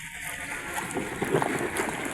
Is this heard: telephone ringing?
no